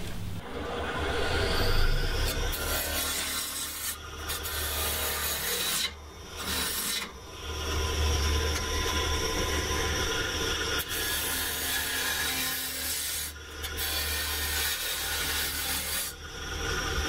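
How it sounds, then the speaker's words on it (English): Maple burl spins on a lathe as a lidded box is turned, giving a continuous scraping, rasping cut with brief pauses where the tool lifts off the wood. "So I'm gonna turn that and we'll get the threaded rings in, get a tenon down on this"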